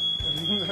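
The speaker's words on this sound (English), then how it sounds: "When the alarm goes off, that means we're done." A smoke alarm sounds while pizza pinwheels bake in a home oven, giving a steady, piercing high beep that runs through the whole short moment, loud and close, as a voice speaks underneath.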